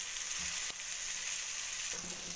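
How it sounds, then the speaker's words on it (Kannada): Bangude (mackerel) fish frying in a pan, a steady hissing sizzle with a couple of sharp clicks as pieces are turned over, close and even throughout. "ಈ ರೀತಿ ಇನ್ನೊಂದು ಸರನು ಮಗ್ಚಿ ಹಾಕ್ಕೊಂಡು ಬೇಯಿಸ್ಕೊಳ್ಳೋಣ."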